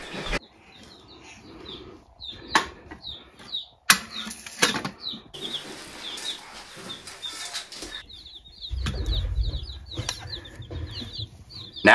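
Many newly arrived baby chicks chirp rapidly in high, repeated peeps throughout while feeding, mixed with rustling, scraping and a few knocks, close by.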